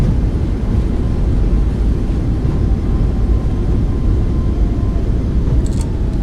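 Boeing 737 MAX8 in the iFly flight simulator decelerating after landing with thrust reversers deployed, a steady broad roar of engine and rushing air that holds constant throughout without pauses.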